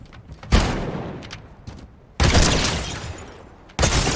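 A shotgun in the video game Fortnite fires three times, each blast a loud, close boom with a long ringing decay, spaced unevenly about one and a half seconds apart.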